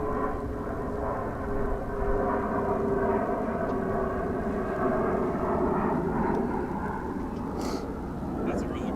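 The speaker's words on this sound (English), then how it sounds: "Smaller regional planes get up off the ground really fast." A regional airplane taking off at DFW Airport roars steadily throughout, a broad sustained engine rumble that holds at a fairly loud level, with people talking over it.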